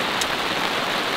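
Rain falling on and around a camping trailer, an unbroken, fairly loud patter-hiss with one brief sharper drop tick early on and no talking.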